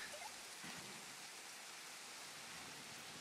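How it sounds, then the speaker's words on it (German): Steady rain in the dinosaur park game Jurassic World Evolution, a continuous soft hiss of falling water with no other sounds on top, fairly quiet and even throughout. "Der Regen scheint jetzt auch zu verschwinden."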